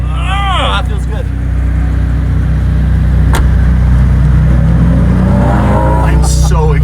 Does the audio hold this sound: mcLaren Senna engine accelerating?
yes